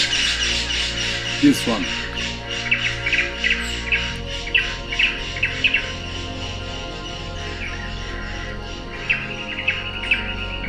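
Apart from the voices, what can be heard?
bare-throated bellbird mating song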